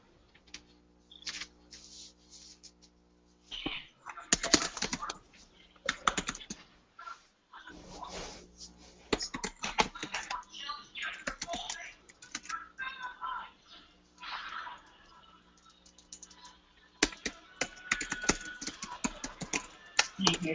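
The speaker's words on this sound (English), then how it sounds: "I hear some mad typing," Rapid typing on a computer keyboard, close and quiet, in irregular bursts of clattering keystrokes separated by short pauses.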